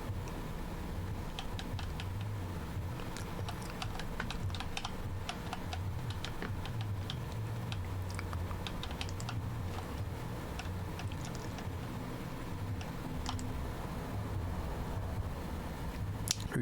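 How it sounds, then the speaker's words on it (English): Automated typing device from Alan Wake II clacking away in a steady stream of quick, light mechanical key ticks over a low droning hum, continuous and moderately close with no talking. "The automated typing device, ATD, will produce writing mimicking that of Alan Wake"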